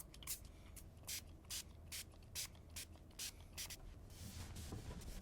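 Music Nomad guitar cleaner is sprayed onto a cloth for a satin-finish Taylor GS Mini, producing a run of short, evenly spaced, crisp trigger-spray bursts close to the mic, then a longer continuous spray at the end.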